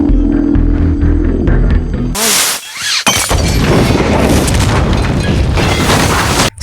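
A molotov bomb bursts inside an office toilet in a film scene, a sudden loud broadband blast that cuts off droning music, followed by a brief lull and then sustained roaring fire and debris noise.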